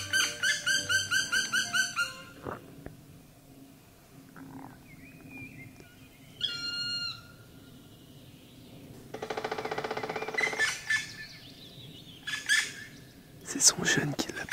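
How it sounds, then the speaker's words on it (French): Young woodpecker calling to its parent in a large conifer forest in Sweden, a series of sharp, high chirping calls at the start, followed by scattered bird calls, rustling and short bursts of noise. "C'est son jeune qui l'appelle."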